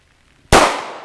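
A single sharp gunshot from an FNS 9C 9mm pistol with a 3.6 inch barrel, loud and close, bursting out of near silence and then ringing down in a long fading tail.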